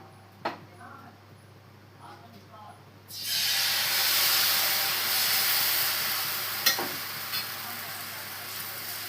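Rava uttapam batter hits a freshly oiled griddle with a sudden loud, steady sizzle and hiss that fills the rest of the pan sounds, preceded by a few quiet clinks and faint talk.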